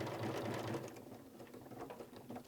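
A sewing machine stitches quilt binding with monofilament thread, giving a quiet, fast, steady mechanical whirring and rapid needle ticking that slows slightly toward the end, close and alone.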